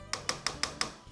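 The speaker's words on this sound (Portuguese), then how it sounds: "Vou ligar o fogo" Five sharp, evenly spaced clicks from a gas stove igniter, close and fairly loud, as a burner is lit in a home kitchen, with no talking.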